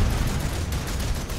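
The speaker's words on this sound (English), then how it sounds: "Just gunshots all over the place." Dense, continuous gunfire rattles through a large-scale battle in the video game Planetside 2, with overlapping bursts and heavy low rumble and no clear pauses.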